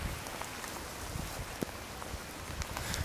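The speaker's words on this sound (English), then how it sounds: "The place is actually flooding. That's how much rain there is at the moment." Heavy rain falls steadily around an abandoned mental asylum in Italy, a dense, even hiss of drops pattering on surfaces with no voices.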